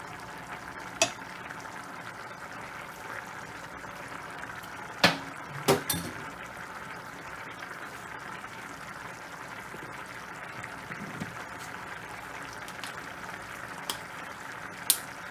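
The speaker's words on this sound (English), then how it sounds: "the pot is boiling so well and the water is reducing" A pot of rice and sardines simmers steadily with a low bubbling hiss, punctuated by a few faint clinks and taps of a utensil.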